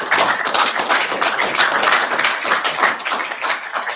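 Audience clapping at a youth cricket competition ceremony in Kingston, Jamaica, a steady, close wash of many hands applauding for the whole stretch without talk.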